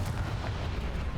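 A Confringo blast spell from Hogwarts Legacy erupts as a dense, loud, booming roar that fills the moment with no pause.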